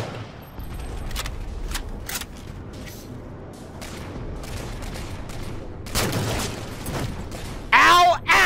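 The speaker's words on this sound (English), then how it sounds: "they're shooting that shit fast" Rapid gunfire crackles through a Halo match, scattered shots and bursts under continuous chatter from players, growing louder and denser toward the end.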